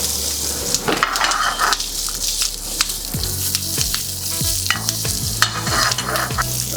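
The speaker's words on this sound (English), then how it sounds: "we can just stir fry the lot in under a minute" Ingredients stir-fried in a very hot pan for a Szechuan-sauce monkfish dish: a loud, steady sizzle runs throughout, with repeated scrapes and stirring clatters of a utensil against the pan, close up and with no talking.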